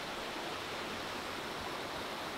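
A waterfall beside a river on an island produces a steady, even rush of falling water with no variation or other sounds.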